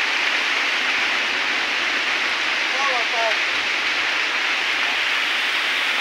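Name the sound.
heavy rain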